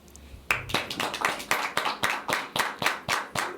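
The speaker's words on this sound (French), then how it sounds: "on tenait vraiment déjà à t'applaudir." Hand clapping in a TV studio for a guest on a French-language culture talk show: a steady, rhythmic run of distinct claps from a small group, close and fairly loud, with no voices over it.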